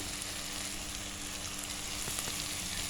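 Tomato and onion sauté in a clay pot, making a continuous dense sizzle with light crackling for a few seconds and no voices.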